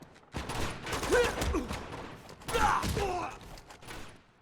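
Rapid bursts of gunfire from shooting snipers in the video game Uncharted 2: Among Thieves, with sharp cracks clustered in two loud volleys amid busy game noise.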